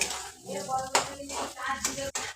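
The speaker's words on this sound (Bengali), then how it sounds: "তো দেখো আমার এদিকে চিড়া ভাজতে শুরু করে দিচ্ছে" Bursts of crackling sizzle from flattened rice frying in hot oil, with a few sharp clinks and stirring sounds in between.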